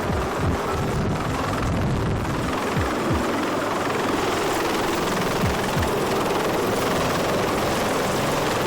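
Steady loud rotor roar and turbine whine of a military helicopter hovering close during an army special forces insertion, with buffeting wind noise running throughout and no voices.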